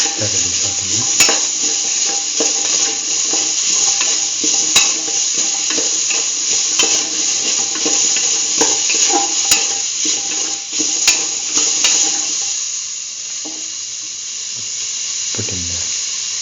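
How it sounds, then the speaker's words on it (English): Chayote pieces sauté in a hot pan, giving a steady loud sizzle broken by repeated scraping stirs, which fade out near the end and leave a few quieter clinks. "Thoroughly saute it."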